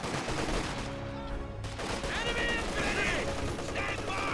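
Machine gun fire in Company of Heroes 2, dense crackling bursts of automatic fire mixed with mechanical clatter and distant battle noise, steady and loud throughout.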